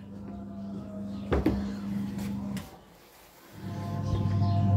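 A refrigerator door is opened with a sharp click, its low compressor hum cutting out briefly and then returning louder, heard close in a quiet room without talk.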